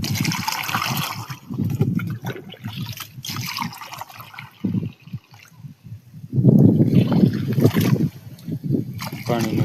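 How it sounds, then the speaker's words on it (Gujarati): Water pours and gurgles into a pump for an organic spray mixed with milk, filling it in uneven splashing bursts close by. Speech is heard between the pours. "આપણે પાણીનો પંપ આખો ભરી લેવાનો છે"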